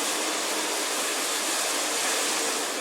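Sauce with vinegar and soy sauce for a spicy chicken spaghetti dish cooks in a pan on the stove, giving a steady, close sizzling hiss that runs on evenly with no talk.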